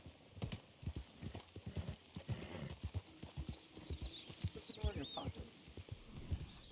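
Horse hooves clip-clop in a steady, fairly close rhythm in the Red Dead Online video game, with a horse whinny partway through and people talking over the hoofbeats.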